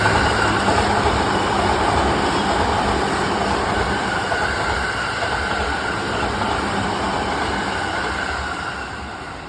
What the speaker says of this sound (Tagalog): Apaka-busy ng mga train dito. Sunod-sunod, oh. JR line.